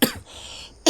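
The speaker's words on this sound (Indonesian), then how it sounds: "Jadi dalam video ini terkadang ada suara batuknya." Two short, sharp human coughs at the start and end, close to the microphone, separated by a quiet stretch of faint background noise.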